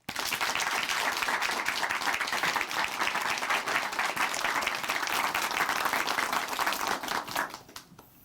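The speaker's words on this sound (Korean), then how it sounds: "춘천 한마음교회 곽혜진 자매님 큰 박수로 맞이해 주세요" A congregation at a church testimony program gives a speaker from Chuncheon Hanmaeum Church a big round of applause, dense steady clapping filling the room for several seconds before tapering off near the end.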